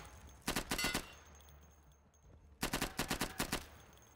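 Two close bursts of rapid automatic gunfire from the tactical shooter game Insurgency, each roughly half a second of sharp cracks, separated by a quieter gap of background ambience.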